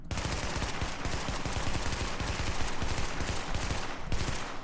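An SMG with a 32-round magazine fires in the video game The Division. The shots come as rapid, loud, back-to-back feathered bursts that run almost continuously, with only brief gaps between them. No one speaks.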